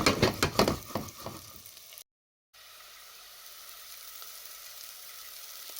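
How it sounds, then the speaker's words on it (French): Pre-cooked, salted potatoes sauté in butter with a crackling sizzle and a few stirring clatters, then a moment of silence before a softer, steady frying hiss continues. "Donc, je vais venir les faire sauter dans le beurre."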